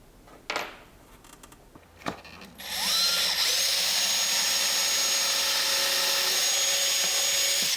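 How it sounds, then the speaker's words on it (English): A couple of sharp knocks, then a power drill with a bit whirs up and runs at a steady high-pitched whine, drilling through wood, loud and close, without pause. "I'm going to use my drill and drill bit"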